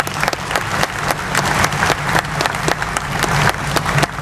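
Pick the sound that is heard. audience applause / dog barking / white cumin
audience applause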